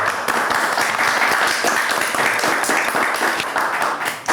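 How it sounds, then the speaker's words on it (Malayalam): Dense, steady applause from a crowd fills the whole stretch at an even loudness, many hands clapping together with no voices on top, heard during a Malayalam TV comedy sketch about a village panchayat office. "എന്താ കയ്യടി"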